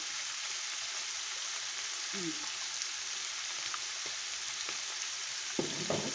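Chicken with bean sprouts, spring onion and oyster sauce sizzles steadily in a hot pan, a dense even crackle of frying with a few scraping stir strokes near the end.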